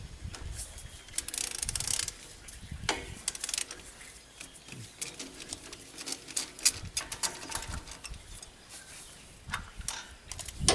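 Ratchet on a swivel with a 10 mm socket removing a bolt on a Ford F250 6.0 Powerstroke during turbo removal, close irregular clicking and clattering metal taps spread across the clip, no talk.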